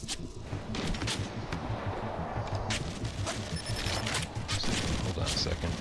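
Rapid bursts of video-game gunfire from the PSVR shooter Fracked crackle steadily under a continuous in-game soundscape, with a player talking over it.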